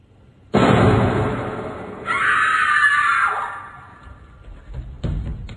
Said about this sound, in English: it opens with a gunshot and a scream